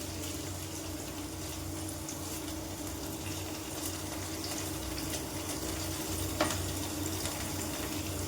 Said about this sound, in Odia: ଟିକେ ତେଲରେ ଭାଜିବା